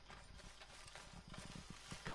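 Horse hooves clip-clop at a walking pace on a hard surface in Red Dead Redemption 2, a steady rhythmic trotting at moderate distance, with faint ambient noise underneath.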